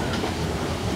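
A passing train makes a loud, dense, continuous rumble that fills the short stretch.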